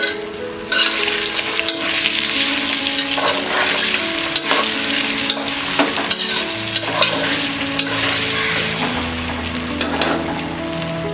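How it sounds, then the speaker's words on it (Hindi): Sprouted field beans (val, or black-eyed) stirred into fried onions in a hot pan for masala rice: a loud, continuous sizzle with repeated scraping and tossing strokes close up, no voices. "अब हम इसमें डालेंगे ये वाल या ब्लैक आइड स्प्राउटेड बीन्स, मिक्स कर देते हैं।"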